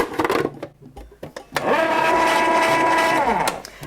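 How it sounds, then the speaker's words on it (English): An ice cream machine churns coconut ice cream with a steady, fairly loud whirring motor hum that starts abruptly and runs for a couple of seconds after brief clatter and faint sounds. "Paddle in and into our ice cream machine."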